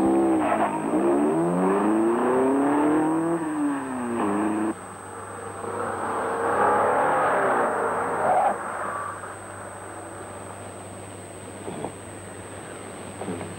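A car engine revs and whines through rising and falling pitch sweeps with some tire noise, then drops to a low idle hum under background noise and faint clicks.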